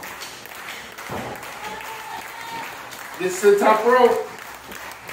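Crowd at a New Texas Pro Wrestling triple threat match featuring Fuego del Sol cheers and applauds, the noise swelling louder toward the end beneath a commentator's ongoing play-by-play.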